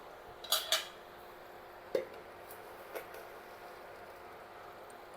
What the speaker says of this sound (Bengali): এবার আমি এতেই চিনি দিয়ে দেব।